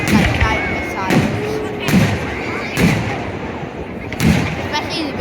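Bonfire night fireworks at Corby burst in a steady string of heavy booms, each with a crackling tail, sounding roughly once a second and loud and near, while a person talks throughout.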